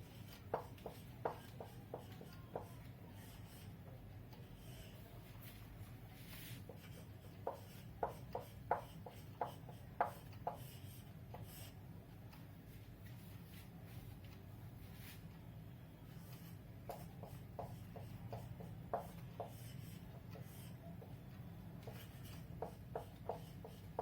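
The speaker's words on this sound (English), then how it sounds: "First I will write the sums." Pen or pencil writing maths sums by hand, faint scratchy strokes in small clusters over a quiet room hum.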